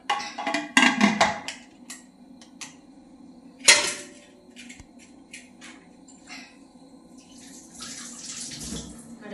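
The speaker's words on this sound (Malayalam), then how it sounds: "കുക്കർ അടയ്ക്കുക." Pressure cooker lid being handled and closed over beef in a home kitchen, sharp metallic clanks and knocks at close range, with a loud clatter early and another about midway, then quieter rattling.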